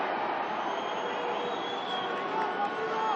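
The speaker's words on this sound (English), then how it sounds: "Oh, and the crowd getting behind their team." Crowd at a Georgia versus Spain rugby match cheering on Georgia, a steady wash of voices at moderate distance with a broadcast commentator talking over it.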